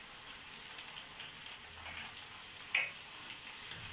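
A vegan noodle stir fry with shiitake mushrooms sizzling in a pan, a steady, faint hiss of frying with one or two small ticks, no talking.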